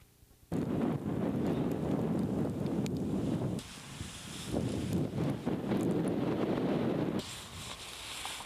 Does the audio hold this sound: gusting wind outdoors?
yes